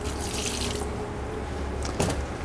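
Vinegar being poured into a vinaigrette dressing, a short liquid trickle and splash close by, with a brief louder gush near the end.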